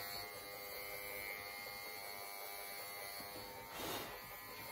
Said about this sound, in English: So I have my clipper turned over and I'm tapping right up against the paw mat.